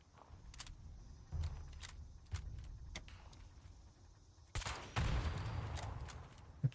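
Turrets firing in Fallout 76, with scattered sharp shots and short bursts at moderate distance against a quiet background, and a denser volley near the end.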